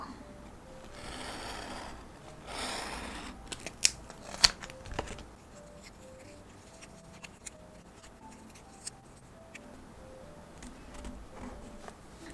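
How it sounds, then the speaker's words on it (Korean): Scissors snipping through paper along a drawn shape during scrapbook journaling, with soft repeated cuts and a few sharper clicks close up, faint background hum throughout. "이 모양대로 잘라주겠습니다."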